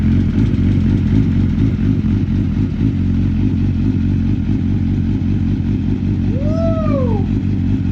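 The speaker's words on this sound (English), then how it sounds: "This was the first bike that I had, a 2023 GSXR1000. Just listen to it, guys." A 2023 Suzuki GSX-R1000 motorcycle engine runs loud and close with a steady deep rumble, and a short chirping squeal rises briefly near the end.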